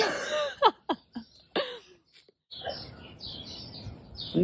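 Birds fighting, a burst of sharp squawks and rapid chirps up close, followed by softer scattered tweets over background noise.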